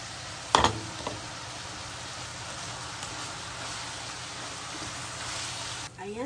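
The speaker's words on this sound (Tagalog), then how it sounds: "Ayan na guys, nakulo na po." Soup in a pot at a steady simmer, a continuous broadband hiss and bubbling with a couple of sharp knocks near the start, heard close and alone.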